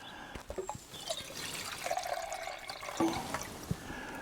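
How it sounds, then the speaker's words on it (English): About 500 ml of water pours into a titanium pot, a close, continuous trickling splash with a few small metallic taps and drips throughout. "So I've 500 ml going into this"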